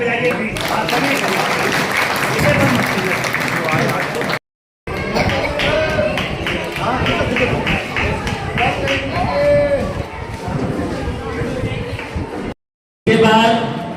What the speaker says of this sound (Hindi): भैया ताली बजाइए प्लीज।